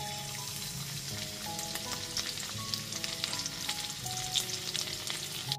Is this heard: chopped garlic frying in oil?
yes